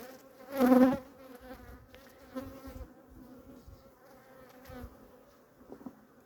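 Honeybees buzzing at an opened hive during a colony check, a weak Varroa-damaged colony being prepared for merging, with a steady soft hum and one louder close burst near the start, plus faint handling noises.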